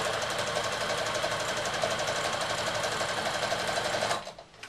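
Sewing machine running steadily as it stitches a seam around a fabric draught excluder, a fast even mechanical rattle that is close and loud with no talk, then stops abruptly near the end.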